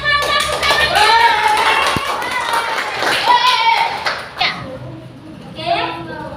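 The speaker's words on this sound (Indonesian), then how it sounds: "Saksikan tepuk tangannya." A class of schoolchildren claps in a rhythmic pattern during a lesson, the hand claps mixed with loud children's voices and chatter close by.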